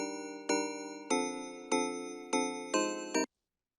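Six evenly spaced bell-like synth chimes ring out, each a bright tonal strike that decays quickly and dry, with no lingering echo, then silence.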